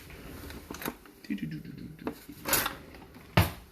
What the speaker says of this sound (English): I'm sliding and grab those tongs.